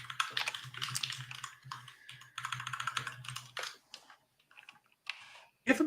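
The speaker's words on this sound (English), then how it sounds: "You have a mechanical keyboard?" Rapid typing on a mechanical keyboard, close and fairly loud, clacking in dense bursts with short pauses, then a few scattered keystrokes near the end.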